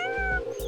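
A cartoon cat meows from up in a tree, one loud, close, whining cry drawn out with harmonics, then a short second call, alone with no talk over it.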